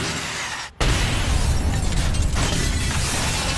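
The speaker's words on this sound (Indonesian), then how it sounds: "pukulannya itu mengeluarkan efek ledakan yang sangat dahsyat hingga memecahkan kaca" A punch sets off a huge blast that shatters glass in a karate dojo. A brief silence is followed by a sudden loud roaring explosion that sustains with dense crackling debris for about three seconds.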